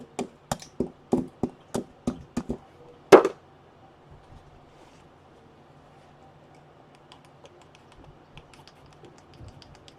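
A knife cuts repeatedly into a foam Iron Man chest plate, giving about eight sharp close ticks in a quick even rhythm, then one louder snap before the work goes quiet with faint scattered handling noises.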